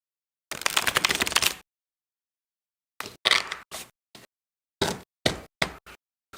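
A tarot deck being shuffled: one dense papery riffle lasting about a second, then a pause and a run of short, crisp card taps and slaps, close and fairly quiet, with no talking.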